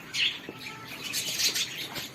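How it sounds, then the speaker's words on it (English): Small birds chirping and tweeting in short bright bursts, fairly close, over a steady background hum, in Panchgani. "And here are some birds."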